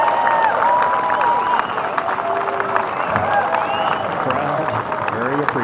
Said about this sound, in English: Crowd very appreciative.